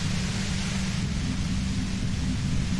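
Steady broadband white-noise hiss from the video game Disco Elysium, even and unbroken for a few seconds with a soft rumbling low end and no voices.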